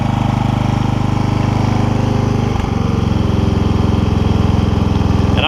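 A Toro Wheel Horse 1232XL hauler tractor engine fitted with a Hipa carburetor idles close by with a loud, steady, even throb and a brief dip midway, and no voices.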